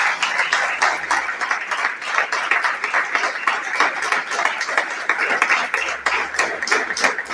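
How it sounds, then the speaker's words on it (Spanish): Congregation clapping hands together in a church service, a steady dense patter of many palms continuing throughout, close and fairly loud, with no talk over it. "Dale un aplauso al Señor."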